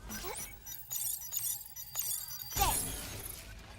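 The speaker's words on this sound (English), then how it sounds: "Yep, I hear a figurine as well." A figurine pickup cue in a video game gives a quiet, glassy chiming sparkle with a few faint clinks and a brief shimmering swell near the end, over low background hiss.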